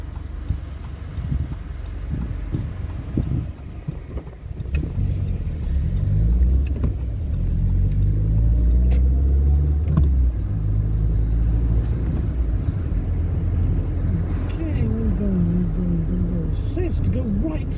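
A small Ford Fiesta drives from Thornbury toward Barry: a steady low engine and road rumble heard from inside the car, with voices talking over it almost the whole way.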